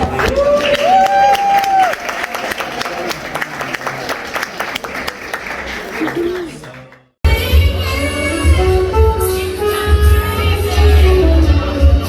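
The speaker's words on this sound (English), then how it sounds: "I'll give him a round of applause, man." An audience at a poetry night in a jazz club lounge applauds a poet, loud and steady, with voices and cheering mixed in and a brief cutoff partway through.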